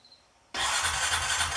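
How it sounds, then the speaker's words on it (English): A 2014 Honda Foreman TRX 500 ATV engine cranks and catches abruptly, then settles into a loud, steady running note close by, with no talk. "Okay, now I'm gonna crank her up."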